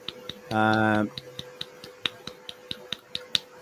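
A little golfer's clap: a string of light, soft hand claps, close and evenly spaced, coming right after a brief sustained tone.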